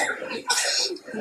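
A man coughs once, short and close, while speaking during a sermon, with talk running around the cough.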